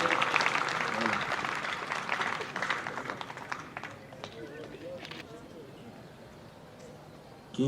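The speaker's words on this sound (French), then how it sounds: "Applaudissons encore pour l'encourager, s'il vous plaît." An audience at a diploma ceremony in Kinshasa claps, with dense applause that gradually thins and fades over several seconds while a voice speaks over it.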